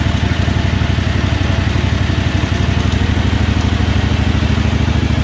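A Wheel Horse C-81 mud mower's small engine fires up and settles into a loud, steady clattering idle, with rapid even pulses continuing throughout.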